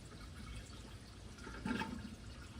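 Water poured into the radiator of a Ford F100 during a cooling system refresh, a soft gurgling trickle with a brief louder splash, faint and close.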